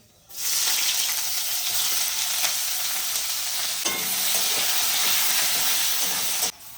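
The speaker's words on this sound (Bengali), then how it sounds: "তেলটা গরম হয়ে গেছে, এখন দেবো তেজপাতা, দেবো একটু রাঁধুনি, পেঁয়াজ কুচি" Bay leaf, radhuni seeds and chopped onion hit hot Patanjali mustard oil and burst into a loud, steady sizzle with steam hiss that holds for several seconds and then cuts off abruptly.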